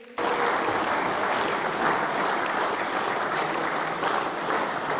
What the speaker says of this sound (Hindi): आगे से पीछे तक जोरदार तालियां बजे।